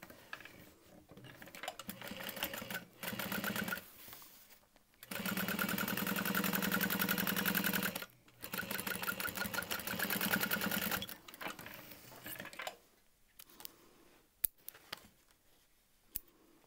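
A sewing machine top-stitches a structured tote bag in steady, rapid mechanical bursts, close and fairly loud, with pauses between runs and a few handling clicks near the end.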